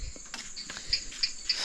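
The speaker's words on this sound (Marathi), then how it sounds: "बेडकं ओरडत आहेत" Frogs croak at night in a Konkan village, with a steady high trill behind a few sharp, repeated calls spaced about a third of a second apart, faint and outdoors.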